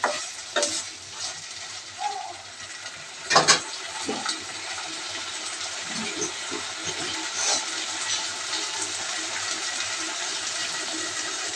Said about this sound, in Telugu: కొంచెం నీళ్ళు పోసుకుందామండి.